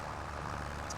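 An underpowered tractor engine in Farming Simulator 25 drones at a steady, loud low rumble, straining under load without letup for the whole second.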